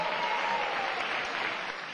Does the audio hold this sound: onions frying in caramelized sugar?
no